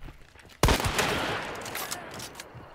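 A sudden loud burst of gunfire in the video game Hunt: Showdown, starting with a sharp shot and rolling into a sustained rattling volley that slowly tapers off.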